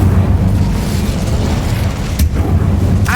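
The Incendio fire spell is cast in the video game Hogwarts Legacy, a rumbling, roaring blast of flame over low booming game ambience, with a short burst partway through and another flare at the end.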